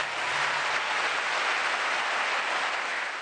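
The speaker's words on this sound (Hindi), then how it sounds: "इतनी जोर से तालियां बजाएं" Studio audience on a Pakistani morning talk show applauding loudly and steadily, a dense sustained wash of clapping with no gaps, close and full throughout.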